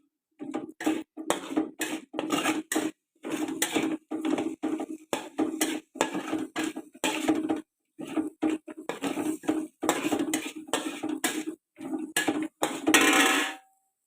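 Ingredients are sautéed in a pan on a stove over a small flame, giving a long run of quick metallic clinks and scrapes in short bursts with brief pauses between them, close by and with no one speaking.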